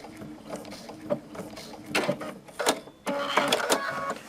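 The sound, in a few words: sewing machine locking an applique stitch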